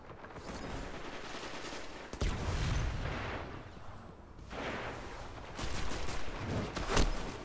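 Shotgun blasts ring out during a match of the video game Destiny: Rise of Iron, a sharp crack near the two-second mark followed by further bursts of gunfire and a loud shot toward the end over constant battle noise.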